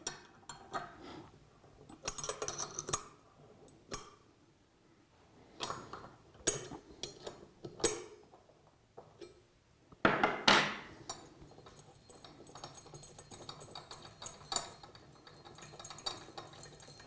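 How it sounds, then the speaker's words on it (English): Metallic clinks, taps and ratcheting scrapes as bolts are undone on the side of a Flotronic pump body, in irregular bursts separated by short pauses, close and fairly clear. "We have two bolts at the side which need to be undone."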